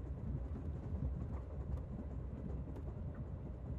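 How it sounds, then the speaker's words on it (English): A train running in the video game Master Detective Archives: Rain Code, a low steady rumble with no voices, close and fairly quiet. "Das hier ist also dieser Zug."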